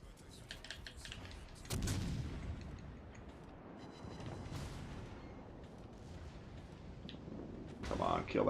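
Naval gunfire in the World of Warships Legends video game, booming salvos and impacts rising now and then over game ambience while a person talks over it.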